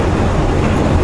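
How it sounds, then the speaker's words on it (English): A train passing near the Columbia River, a loud, dense rumbling roar with a steady rolling rush close by, filling the short moment with no voices. "Here comes the train."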